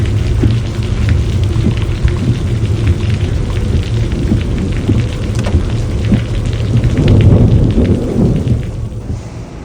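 Heavy rain pours down steadily in a thunderstorm at departure time in Luxembourg, with low rumbling thunder rolling beneath a dense wash of downpour, loud and continuous, swelling near the end.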